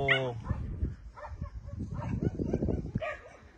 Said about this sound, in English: She's not attacking the dogs. She's just... She has a character. She's a strong girl. She's warning the dogs.